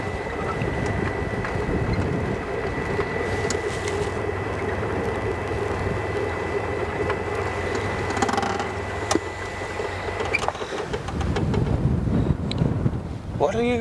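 Wind blows across an open outdoor safari setting, a steady rumbling buffet against the microphone with an engine-like drone underneath, a few knocks and rustles, and a brief voice at the end.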